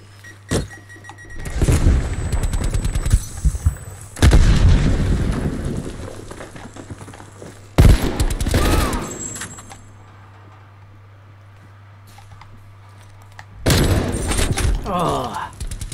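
Bursts of gunfire in a hardcore team deathmatch video game, loud sustained volleys separated by quieter gaps.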